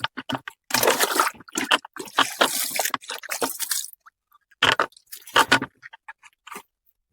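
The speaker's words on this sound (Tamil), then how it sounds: "இப்போ தண்ணி ஊற்றுறோம் பாருங்க" Water is poured and sprinkled by hand onto fertilized plants, coming in bursts of splashing and trickling with short silent gaps between them.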